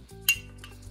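A spoon clinks once against a pot or jar as balsamic vinegar is measured out for a red onion jam, a single bright metallic tap followed by faint kitchen handling.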